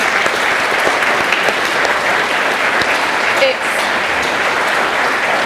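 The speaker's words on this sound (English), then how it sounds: "So just a round of applause for the organisers." Crowd applause at an outdoor anti-war rally in London, a loud, continuous rush of clapping from many people lasting several seconds, with faint crowd voices mixed in.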